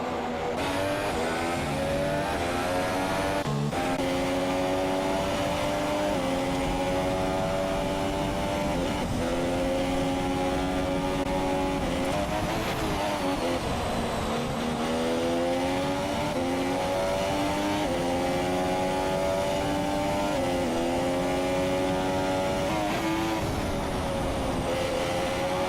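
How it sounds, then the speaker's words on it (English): Race car engine over-revving in an Xbox racing game at the Brazilian Grand Prix: a continuous loud, high-pitched engine whine that rises and falls with revs, with brief downshift dips, and no talk. "It looks like it's purposely over-revving the car"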